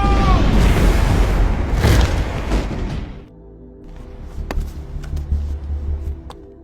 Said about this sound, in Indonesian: sebelum bom itu meledak